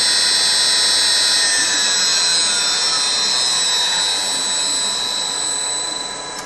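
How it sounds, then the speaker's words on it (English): A CNC spindle driven by a Huanyang VFD runs at a steady high-pitched whine with a constant tonal hum, loud and close, then begins to fade slightly near the end. "I've got my spindle over there going."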